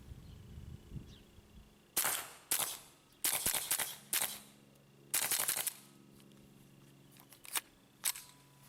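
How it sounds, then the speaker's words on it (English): Suppressed shots from a Ruger 10/22 .22 rifle firing standard velocity ammunition: about eight sharp, muffled cracks at irregular intervals, some in quick pairs, each standing out alone against a quiet background. "this is what it sounds like with the suppressor with standard velocity ammunition"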